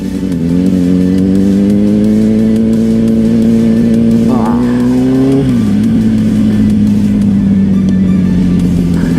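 A motorcycle engine droning steadily while riding, loud and close, with a rising pitch that drops sharply as it shifts and then settles into an even hum.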